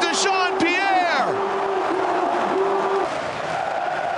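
A basketball arena crowd at a Euroleague game erupts in a loud, sustained roar of cheering that fades slightly toward the end, with a commentator's voice over it.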